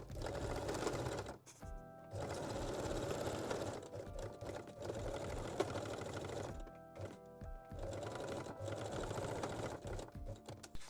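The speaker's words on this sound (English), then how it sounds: "Then baste and sew your closure." A sewing machine stitches the closure of a lace-edged bralette in close, steady running bursts, stopping briefly a few times between seams, with no talking.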